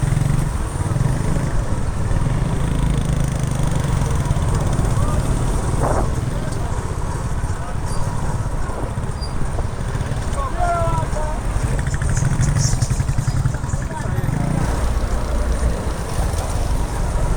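A motorcycle weaves through heavy traffic with a steady low engine drone and road rumble, plus faint honks and passing vehicles, while someone talks over the noise.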